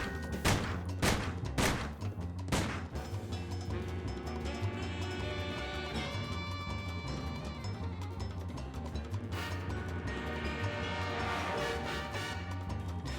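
Sam & Max: Beyond Time and Space Remastered on PC: a quick burst of sharp gunshots opens, then steady game music and effects carry on behind.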